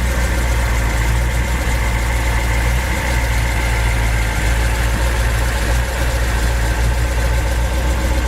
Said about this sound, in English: Engine runs nice and quiet.